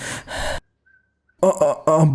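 An old fortune teller pants and gasps in short, loud, close breaths, two harsh gasps, then a near-silent gap, then three more in quick succession.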